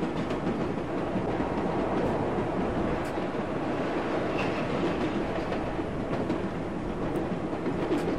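Simulated subway train running through a tunnel in World of Subways 4, a steady loud rumble of wheels on rails with faint clicks, as an oncoming train passes on the other track.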